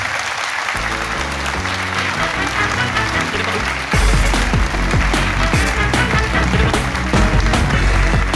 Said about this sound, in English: Ladies and gentlemen, mass round of applause, Steve McNeil!